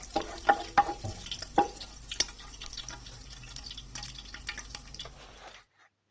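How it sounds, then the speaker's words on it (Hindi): Chopped garlic frying in a pan for chicken chowmein gives a soft, low sizzle under sharp clinks and scrapes of a stirring utensil, with quieter stretches before it cuts off abruptly. "गार्लिक फ्राई कर रहे हैं"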